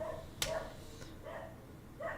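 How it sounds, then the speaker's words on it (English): A dog barks in short sharp bursts, a few yips spaced about a second apart, fairly faint and indoors, with no talk over it. "My dog is barking like crazy."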